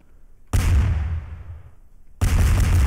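A cannon fires in Garry's Mod: two loud, sudden booming blasts about two seconds apart, each one a sharp crack followed by a rumbling tail that fades before the next shot.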